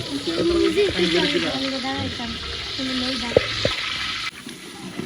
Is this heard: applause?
no